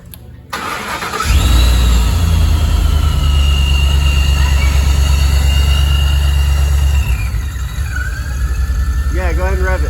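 A Gen 1 Ford Raptor fitted with a Procharger cranks briefly and fires up, then settles into a loud, steady, close idle with a whine on top, while people talk over it.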